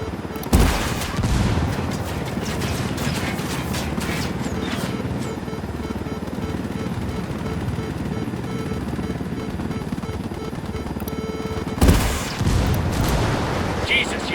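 Sustained in-game gunfire and explosive booms from a firefight with bandits in Ghost Recon Wildlands, dense and continuous throughout, with a louder burst near the start and another near the end, under game chatter.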